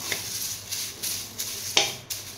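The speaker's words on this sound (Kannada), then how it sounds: "ಕರಿಬೇವು ಚೆನ್ನಾಗಿ ಒಣಗಿದೆ, ಅದನ್ನು ಸ್ವಲ್ಪ ಬಿಸಿ ಮಾಡಬೇಕು ಕ್ರಿಸ್ಪಿಯಾದಂಗೆ" Dry curry leaves being roasted in a pan until crisp for sambar powder, a soft continuous sizzle and rustle broken by light scraping stirs and one sharper clink, close and fairly quiet.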